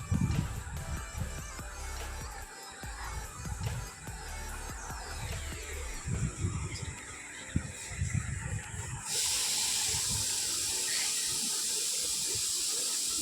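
Paneer pieces are dropped into water to soak in a home kitchen, with soft knocks and splashes at first, then a steady hiss of running tap water.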